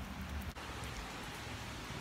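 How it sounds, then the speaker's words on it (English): Heavy rain pouring over an abandoned amusement park, a steady dense hiss of drops on surfaces, fairly quiet and distant-sounding, with one brief dip near the start and no talking. "So the rain's not dying down at all."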